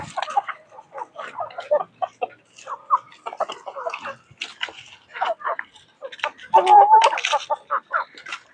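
Backyard chickens cluck in a busy, irregular chorus while being fed a mix of feed and corn grits, with close, overlapping calls growing louder toward the end.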